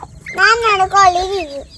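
A single drawn-out, wavering squawk from a bird, loud and close, rising and falling for over a second, like a hen calling.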